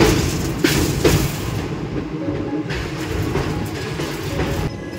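An Indian passenger train on the Dharmavaram to Hyderabad run nears Miryalaguda station, giving a steady, loud, close rumble with faint rhythmic clatter and a few dull knocks throughout.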